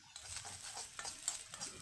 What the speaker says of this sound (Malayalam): കുരുമുളക് അതും കൂടി ഇട്ടിട്ട് നന്നായി വറുത്തെടുക്കാം.